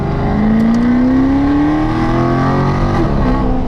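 A Maserati GranTurismo Sport engine revs hard and rises steadily in pitch, loud and close, with a throaty roar that keeps climbing.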